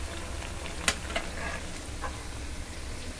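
Cabbage vadas fry in hot oil, a quiet, soft sizzle under a low hum, with a few small ticks and light clinks from stirring.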